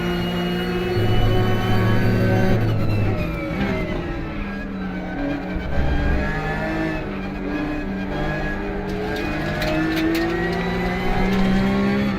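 Porsche Cup race cars in the RaceRoom racing game at Chang circuit roar loudly in a close pack, engines rising and falling through gear changes, with several cars overlapping and no talk.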